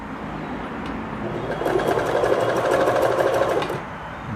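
A Kenmore sewing machine stitches a blind hem in a rapid, loud mechanical run that swells in the middle and then eases, with a steady motor hum underneath.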